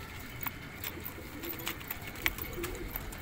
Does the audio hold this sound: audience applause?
no